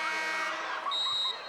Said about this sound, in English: as the buzzer sounds.